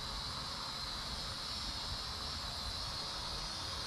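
A KAPTUR GPS II drone flies outdoors in wind, giving a steady, unbroken rotor whine and airy hiss that holds at an even level throughout, with no voices.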